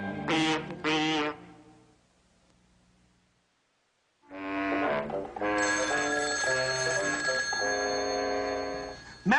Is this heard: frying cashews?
no